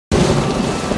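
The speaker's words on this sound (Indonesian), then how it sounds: "malam pun tiba dan hujan turun lebat" Heavy rain pours down at night in a forest, starting abruptly as a loud, dense, steady roar with deep thunder rumbling underneath, and no voices.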